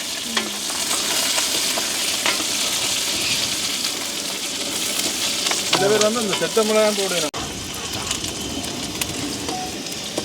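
Onions, green chillies and curry leaves frying in a pan outdoors in a village, a steady loud sizzle with occasional stirring scrapes; a brief voice-like tonal sound rises partway through.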